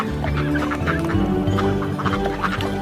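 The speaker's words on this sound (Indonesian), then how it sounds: "Ibunya berkata, kuek, kuek, kuek, hanya 1 ekor yang pulang." A flock of ducks in a rice paddy honk and quack continuously, a dense, busy chorus of overlapping calls close by with no talk.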